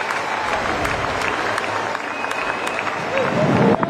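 A cricket crowd at Wellington Stadium applauds a six with sustained clapping and cheering that swells toward the end, while a commentator talks over it.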